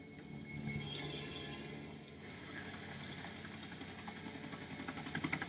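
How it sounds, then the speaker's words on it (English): A U.S. Army military helicopter passes overhead at a distance, a steady low rotor and engine rumble that swells and eases slightly over several seconds, with no voices. "I think it's a chopper."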